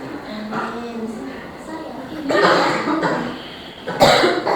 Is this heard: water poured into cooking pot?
no